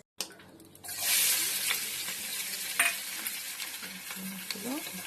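Chopped onions hit hot oil with whole garam masala for a Delhi-style egg curry, bursting into a loud, steady sizzle with occasional clinks of stirring.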